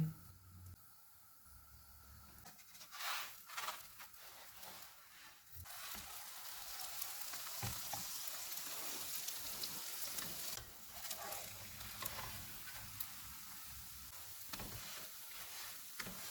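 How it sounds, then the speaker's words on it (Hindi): Aloo lacha paratha frying in ghee on a pan over a medium-low flame, a steady close sizzle and hiss that swells and settles as the flatbread cooks on both sides. "इस पे घी लगाएंगे और दोनों साइडों से पका लेंगे"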